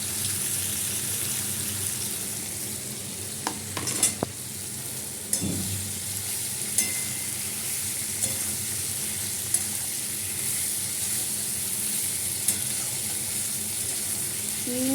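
Tomato fries in a pan of curry base for a prawn curry, giving a steady, close hissing sizzle throughout, with a few faint clinks and a brief stir scrape, and no talk.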